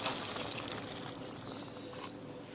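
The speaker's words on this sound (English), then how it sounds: "Now I'm going to add some water to this." Water poured steadily into a pot of stewing pork, a continuous liquid splash and trickle close by, with no talk over it.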